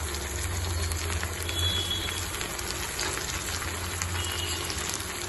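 Tomato, green chilli, red chilli and soy sauces fry in a hot pan for chicken Manchurian, giving a continuous, even, close sizzle with no talking.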